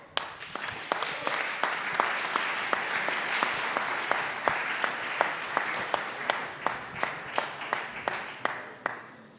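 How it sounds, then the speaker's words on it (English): Audience applause at a startup pitching competition, with a dense bed of clapping punctuated by one sharp, rhythmic clap repeating roughly twice a second, steady and fairly close throughout. "Big applause."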